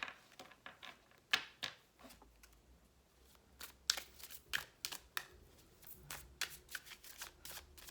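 Cards being shuffled in quick bursts of crisp riffling and slapping, close up, with short pauses between shuffles and no talking.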